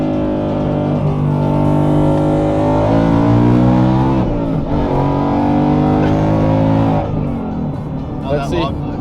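A 700 whp procharged Mustang accelerating hard in a race, its loud engine rising in pitch through several gear changes with a brief dip midway, people talking over the roar.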